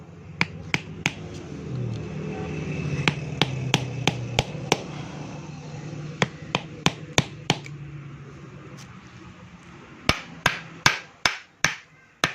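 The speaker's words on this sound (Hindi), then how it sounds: "इसी तरह इसको दोबारा चेक करना है हैमर की मदद से।" A Suzuki Mehran shock absorber part is hammered into place with a series of sharp metallic strikes, first in uneven clusters and then in a quick final burst of louder blows, close up over a faint background hum.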